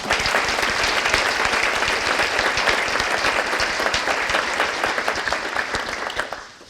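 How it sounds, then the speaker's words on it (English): Sustained audience applause at a county state-of-the-county address luncheon, many people clapping at once, loud and even before tapering off near the end. "So let's give all of those sponsors a round of applause, please"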